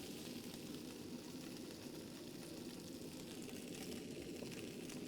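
Fishing bait sears in a hot pan, producing a quiet, continuous sizzle and hiss that stays even from start to finish.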